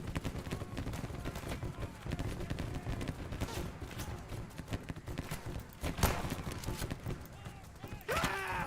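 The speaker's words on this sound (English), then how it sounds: "Listen to the gunfire. That's crazy." Rifle fire crackles through a Battle Cry of Freedom multiplayer battle, dense overlapping musket shots near and distant with sharper cracks standing out, plus footsteps and movement underneath.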